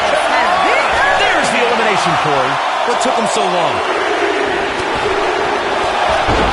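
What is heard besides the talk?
arena crowd in video game WWE 2K19 Royal Rumble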